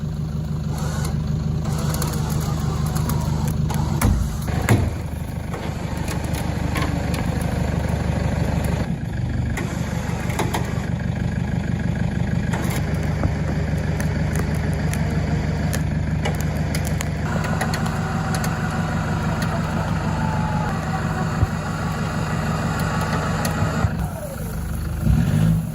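A Toyota pulling a stump out of the ground with a winch strap, its engine droning loud and steady throughout with slight shifts in load and pitch, mixed with faint creaks and scraping.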